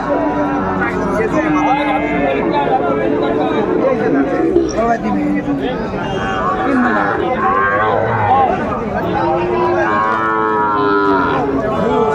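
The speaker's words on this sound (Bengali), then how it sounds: "শাহিওয়ালের ষাঁড় বাচ্চা আমরা দেখছিলাম এখানে। বেশ সুন্দর দুটি গরু।" Sahiwal bull calves at a Kishoreganj cattle market moo loudly and repeatedly, close by, over constant crowd chatter and voices.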